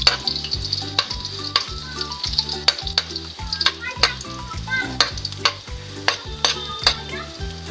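Plenty of garlic fries in a pan until golden, a loud steady sizzle with regular sharp scrapes and taps of a spatula stirring throughout, no voices.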